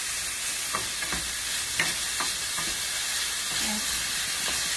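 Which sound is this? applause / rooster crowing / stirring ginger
stirring ginger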